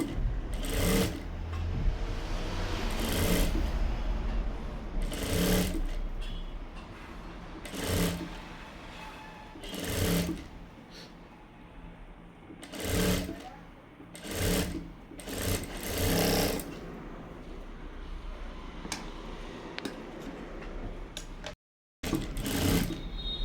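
An electric sewing machine stitches kurti fabric in repeated short bursts, each a few seconds of fast mechanical whirring separated by brief pauses, close up and without talk.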